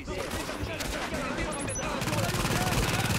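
Rapid automatic gunfire from a deployed turret in The Division, loud and sustained, with a steady rattling burst pattern in the second half over dense game action noise.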